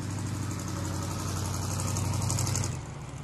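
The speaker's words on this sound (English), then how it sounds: "Please pardon this interview as the tanks go by." Heavy diesel-converted tank engines rumble in a steady, loud drone as the tanks roll by, the sound easing off slightly near the end.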